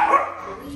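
A small dog at a doggy daycare gives one short, sharp bark that quickly fades, close by in a brief moment.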